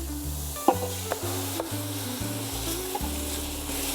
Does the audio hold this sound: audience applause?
no